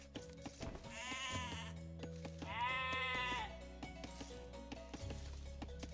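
Sheep in the Age of Empires II video game bleat twice in long wavering calls over quiet in-game background sounds, with no talk.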